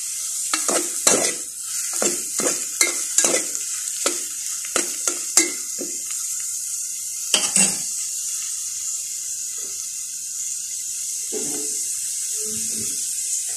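Upo squash and sardines sizzling and being stirred in a hot pan, with repeated sharp scraping and clattering strokes over a steady frying hiss, then quieter sizzling.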